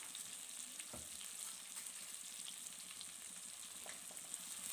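Onions, green chillies and ginger garlic paste frying in a pan for a prawn fry, a faint, steady low sizzle with a few soft stirring knocks, no talking.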